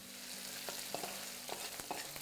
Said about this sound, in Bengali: এটাকে ততক্ষণ ভাজবো যতক্ষণ এটা একদম লাল লাল হয়ে ভাজা হয়ে যাচ্ছে।